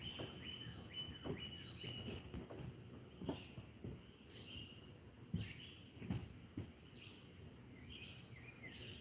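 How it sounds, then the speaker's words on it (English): Faint birds chirp intermittently high in the treetops at Hidden Lake Gardens, with a soft insect and cricket hum underneath, heard at a distance over quiet outdoor ambience. "You can hear the birds chirping away."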